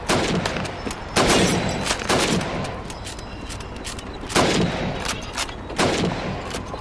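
Rifle gunfire at a shooting training range in the Call of Duty 2 video game, sharp loud single shots spaced a second or more apart, each with a short echoing tail.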